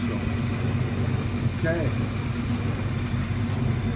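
A 1967 truck engine idles steadily after a cold start, its low rumble running unbroken under a brief spoken word.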